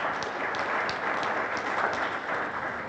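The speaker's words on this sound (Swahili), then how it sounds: "kwa makofi yetu mengi sana." An audience at a formal event in Arusha, Tanzania, gives warm applause to welcome a dignitary. The clapping is dense and continuous, a steady roar from many hands with no voices over it.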